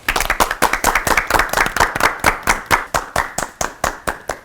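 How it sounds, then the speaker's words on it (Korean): Close, brisk audience clapping during a Korean church sermon broadcast, a steady run of sharp, evenly spaced claps that fill the whole stretch with no talking. "박수로 청해 드릴게요."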